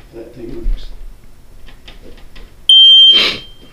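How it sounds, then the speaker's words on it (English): A household smoke detector is tested during a home quality-control inspection. Quiet talk comes first, then a loud, piercing electronic alarm tone sounds for about a second. "And we got smoke detector."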